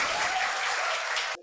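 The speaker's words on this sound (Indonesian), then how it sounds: "Tepuk tangan dulu dong." Brief audience applause at a campus event, a dense patter of clapping that cuts off abruptly at the end.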